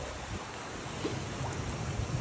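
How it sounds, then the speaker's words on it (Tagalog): Strong wind gusts buffet the microphone beside the water during stormy weather, a steady loud roar with faint lapping underneath. "Nakikita nyo lakas ang hangin."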